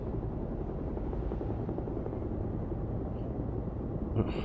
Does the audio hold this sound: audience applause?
no